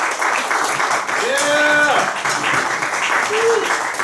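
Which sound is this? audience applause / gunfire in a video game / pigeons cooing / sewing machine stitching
audience applause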